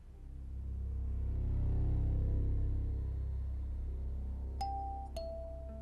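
A two-tone chime rings twice near the end, bright and clear, after several seconds of low rumbling background noise.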